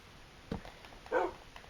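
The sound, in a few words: dog in the Minecraft video game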